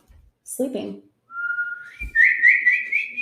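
A pet named Erin whistles indoors, a clear, sustained tonal whistle that steps upward and wavers through several rising notes, close and fairly loud, after a brief burst of voice.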